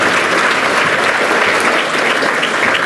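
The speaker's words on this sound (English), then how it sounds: "Clap again." A crowd at a dental school graduation luncheon claps steadily and loudly, a dense continuous burst of applause from nearby with no talk over it.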